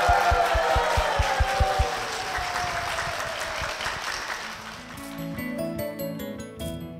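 A church congregation claps together in a blessing, steady applause that starts with sharp rhythmic claps and then fades into quieter, scattered clapping toward the end.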